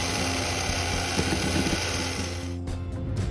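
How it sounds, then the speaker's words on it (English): Handheld electric mixer beating brown sugar and white sugar for cookie dough, a steady close whirring motor hum that runs throughout, dropping in intensity near the end, with no talking. "You can then beat this with a handheld mixer for about 4 to 5 minutes."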